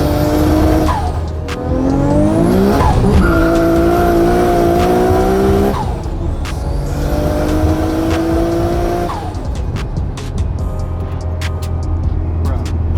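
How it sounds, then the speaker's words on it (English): A 600 hp Lotus does a burnout in second gear. The engine screams up in pitch twice, close and loud, with tire squeal and rough roar between the revs. "He literally just did a full burnout in second gear."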